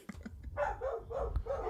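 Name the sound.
dogs barking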